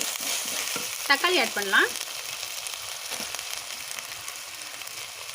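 Ginger garlic paste sizzles steadily in an oily pan as part of a Tamil pepper chicken dish, with a continuous bright frying hiss and brief stirring clatter. Someone speaks over it briefly.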